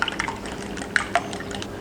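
Four lightly beaten eggs are poured into a bowl, producing a soft liquid trickle with small drips and splats, close and quiet.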